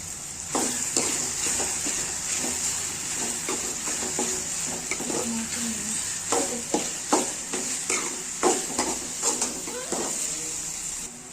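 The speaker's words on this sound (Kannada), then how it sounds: "ಸೊ ಇವಾಗ ನೋಡಿ ಇದೆಲ್ಲ ಸ್ವಲ್ಪ ಫ್ರೈ ಆಗಿದೆ" Tomato with turmeric fries for egg bhurji with a continuous close sizzle, overlaid by a quick series of spatula scrapes and taps against the pan, which grow more frequent toward the end.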